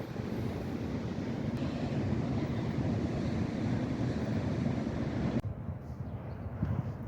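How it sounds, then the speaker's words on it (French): Ocean waves below the Algarve cliffs, a continuous rumbling wash of surf mixed with wind buffeting the microphone, steady and fairly loud, then the wind noise drops away near the end. "voici l'océan de ce côté-ci"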